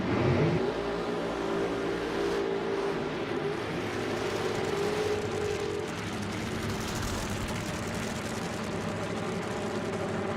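Nitro funny car engines rev at a drag race at a Texas motorplex, a loud, steady, droning roar with rumbling low tones sustained across the whole stretch, no voices over it.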